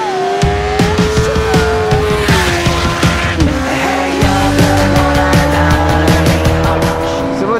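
A Kawasaki Z800 roadster engine, an inline-four derived from an older ZX9, revs hard and close while riding, rising and dropping through the gears with a loud, steady growl and no voices over it.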